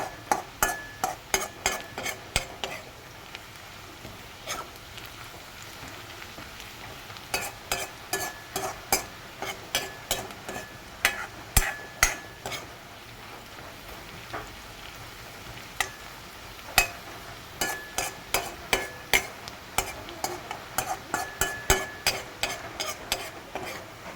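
Onions fry in a pan while a utensil stirs them in quick bursts of rhythmic scraping strokes, separated by short pauses, over a steady low sizzle.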